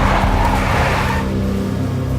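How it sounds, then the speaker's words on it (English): A big black Mercedes in the Max Payne game revs loudly and close, its tires squealing and skidding for a moment before the engine noise fades. "A big black Mercedes."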